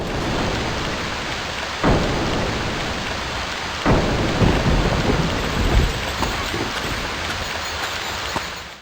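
Steady rain pours in the survival game Stranded II while loud thunder cracks break through twice, near the 2- and 4-second marks, followed by lighter rumbles over the constant downpour.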